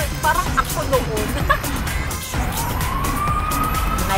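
A police car siren wails with a rising, sustained tone and a passing vehicle rumbles beneath it, amid street noise and nearby chatter.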